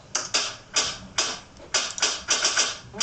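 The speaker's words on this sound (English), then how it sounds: "So for the build, we originally had like a trap kind of snare," Crisp trap-style snare hits blended with marching drumline rolls form an irregular, rapid pattern of sharp, bright strikes for about three seconds, with no voices.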